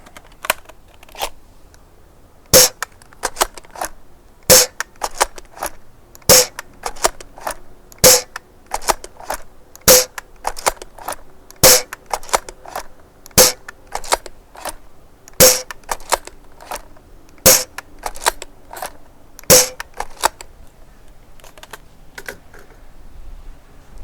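A Worker Prophecy foam dart blaster with a silver metal internal fires Pro darts in a steady series of sharp, loud snapping shots, roughly one per second, each crisp crack standing alone against a quiet background with no talking.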